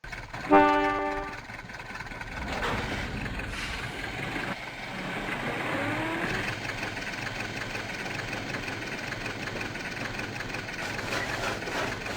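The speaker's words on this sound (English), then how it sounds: "the steam train arrived into Lilydale Station on time at 12 p.m." A steam train rumbles into Lilydale Station with a steady mechanical roar, a brief horn-like tone sounding near the start, then continuous engine and rolling noise as it pulls close.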